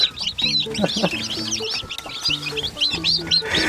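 Many newly hatched ornamental chicks peep while feeding in a busy, continuous chorus of high chirps, close by, with a faint low voice underneath at times.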